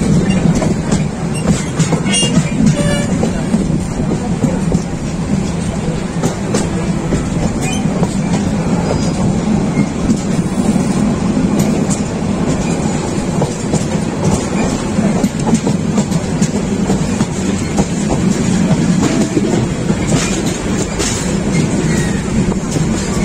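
The 802 Chattala Express pulls into Akhaura Junction with a loud, continuous rumble of railcars and rhythmic clickety-clack from the wheels, plus occasional squeals, under faint talk.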